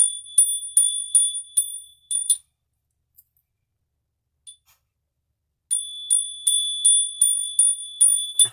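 A bell rung in two bursts of rapid, bright, ringing strikes, a cluster at the start and another toward the end, separated by a quiet gap, with no talking.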